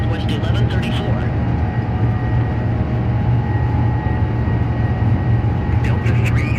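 Airbus A350 in Delta livery rolling for takeoff at Atlanta, a steady loud jet engine roar with a constant low rumble and high whine, while a radio controller's voice talks over it.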